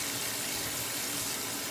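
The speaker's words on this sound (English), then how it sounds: "I'm gonna wash my hands." Water runs steadily from a kitchen tap as hands are washed during home cooking, a close, continuous hiss with no talking.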